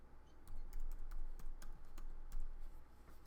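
Keystrokes on a computer keyboard entering an SQL query, a fairly quiet, irregular run of clicks spread across about three seconds with no talking.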